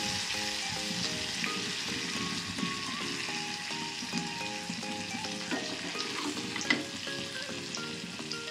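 Bangda mackerel fish fry in a pan, giving a steady, close sizzle and crackle that runs throughout with faint clinks of stirring. Soft melodic tones sit quietly in the background.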